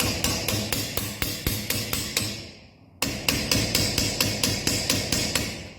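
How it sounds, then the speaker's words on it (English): A ball peen hammer strikes the pommel of a training sword held on a solid block or in a vise, giving a steady run of sharp metallic blows, loud and close, with a short pause partway through before the rhythmic hammering resumes. "the peen on the end of it, get a ball peen hammer."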